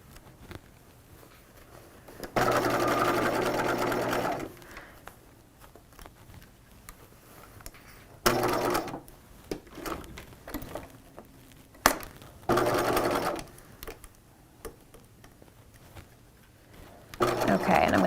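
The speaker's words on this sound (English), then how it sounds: "I'm going to sew all the way to this raw edge now." Sewing machine stitching a seam on a 1950s shelf-bust dress, short bursts of whirring motor separated by pauses, handling noise and quiet rustling, fairly close but moderate in level.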